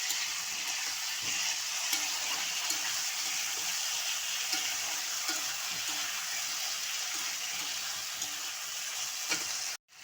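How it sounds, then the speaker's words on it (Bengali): Ginger garlic paste sizzles and fries steadily in a pan for dzai potol, with scattered scraping clicks from stirring, close and continuous until it cuts off abruptly at the end. "আদা রসুনের পেস্ট যতটা লাগবে পরিমাণ মতন দিয়ে দেবে দিয়ে ভালো করে একবার নাড়িয়ে কষিয়ে নেবে"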